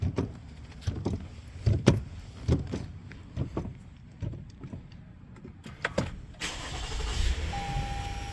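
A 2020 Toyota Camry 3.5 engine cranks and catches with a few mechanical clunks and thumps, then settles into a low steady idle nearby.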